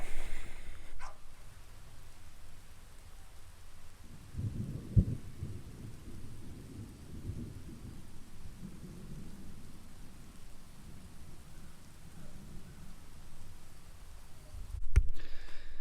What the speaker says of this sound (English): So it ended up raining for about 2 hours.